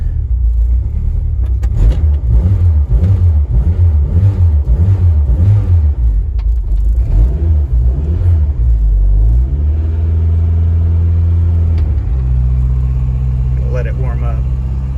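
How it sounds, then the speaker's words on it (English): An E85-fuelled car engine runs just after a cold start, a loud, close, low rumble that pulses unevenly before settling into a steadier idle, with voices heard over it. "That was actually a really fast startup for this car."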